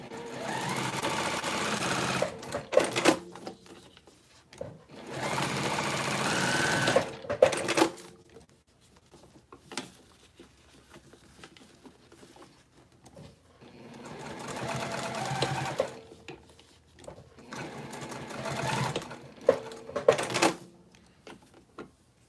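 Sewing machine stitching through a layered crossbody bag, running in two long bursts separated by quieter pauses with faint handling noise, close and fairly loud.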